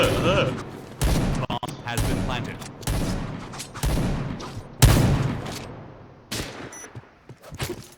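Repeated bursts of rifle and automatic gunfire in the shooter game Point Blank, sharp volleys coming every second or so with short gaps, loud and close, with a voice speaking at points.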